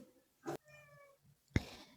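A house cat gives two short meows about a second apart, fairly close but soft, against a quiet background with no talking.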